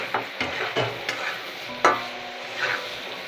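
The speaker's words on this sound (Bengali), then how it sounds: "এবার ঝিঙে দিয়ে একটু নাড়াচাড়া করবো" Ridge gourd being stirred as it fries in a pan, with a spatula scraping and clacking at irregular intervals over a gentle sizzle and no voices.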